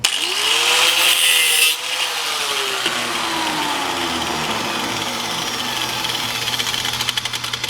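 An angle grinder cuts through metal wheel spokes clamped in a vise, a loud rising whine and harsh rasp that drops off after a couple of seconds into a slowing spin-down hum.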